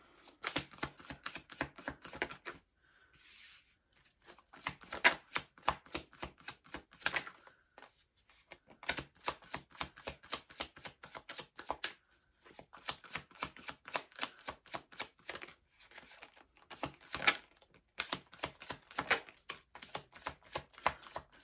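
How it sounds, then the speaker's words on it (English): Tarot cards are drawn out and handled in a quick run of crisp, close clicks and flicks, bursts of snappy shuffling taps broken by short pauses, with no talking. "I'm just getting these cards out just to save some time"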